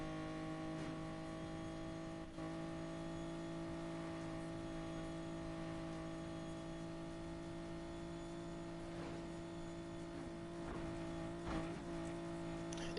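A Nissan Skyline drives in the racing game Need for Speed Payback, its engine holding a steady tonal drone with faint tire sounds and small rev changes throughout.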